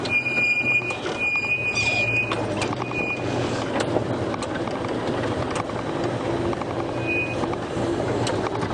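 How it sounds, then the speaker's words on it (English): A safari game-drive vehicle rolls along with a steady engine rumble. Its noisy brakes give off intermittent thin high squeals, mostly in the first few seconds and once more near the end, heard close and without talk. "these brakes are making a bit of a noise this morning"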